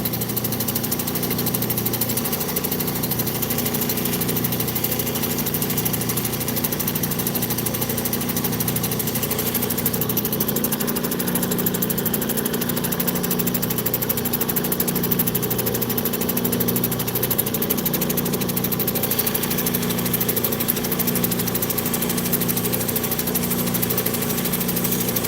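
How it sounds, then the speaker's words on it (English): A well-worn 600 grit lapidary wheel grinds black opal with a steady, continuous motor hum and a whirring grinding drone. The sound holds at an even level throughout, with no talking. "The wheel is a well-worn 600 grit."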